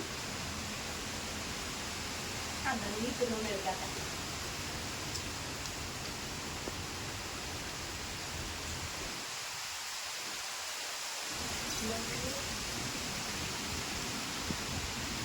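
Heavy rain pours down in a steady, dense hiss that fills the whole clip at an even loudness, with no voices, just the unbroken wash of falling water and a brief dip in its low rumble midway.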